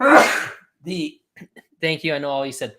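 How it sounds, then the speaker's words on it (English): A person sneezes loudly in a home setting, one sharp burst followed by people talking. "I'm about to sneeze."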